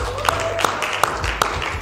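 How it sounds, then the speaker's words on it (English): A small audience claps together, with a few sharp louder claps standing out in a regular rhythm over a busy, hall-filling background. "Give yourself a round of applause"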